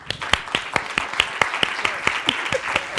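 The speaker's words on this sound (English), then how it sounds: "put your hands together and applaud our panelists" A small audience at a panel discussion on conflict and fragility applauds the panelists, sparse, distinct claps in a loose, uneven rhythm, close and moderately loud.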